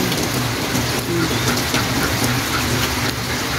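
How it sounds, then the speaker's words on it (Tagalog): Steady heavy rain pattering on surfaces, dense and continuous, with no voices over it. "Ayan, umuulan siya guys"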